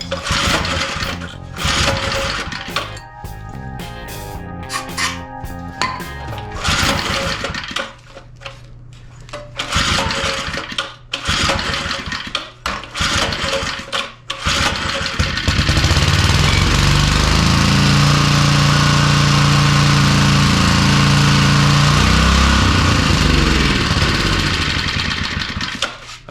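A small two-stroke edger engine sputters and revs unevenly after its fuel mixture screw is adjusted, then settles into a loud, steady buzzing run close by.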